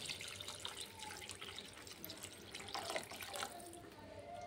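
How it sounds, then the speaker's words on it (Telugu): Water poured into a pot of fried vegetables and rice for vegetable rice, a steady splashing, trickling pour heard close and continuous without talk. "ఇప్పుడు వాటర్ వేసుకుందాం"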